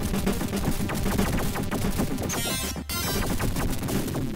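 Enemy aircraft in an arcade shoot-'em-up spraying bullets in several directions, a dense, continuous rattle of rapid game gunfire with crashing bursts, loud throughout with a brief dropout near the end.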